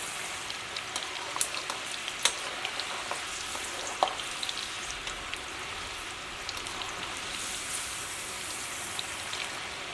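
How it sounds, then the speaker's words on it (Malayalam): Green peas fry in oil in a pan with a continuous, rain-like crackling sizzle and scattered sharp pops, heard up close with no talking. "ചീനിച്ചട്ടിയിൽ കുറച്ച് ഓയിൽ ഒഴിച്ചിട്ട് കുറേശ്ശെ വറുത്തെടുത്താൽ മതി"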